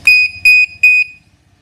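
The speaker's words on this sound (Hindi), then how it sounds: "बजने लगा अलार्म" A loud, piercing electronic alarm lock siren beeps in three sharp repeated pulses, close and shrill, then cuts off.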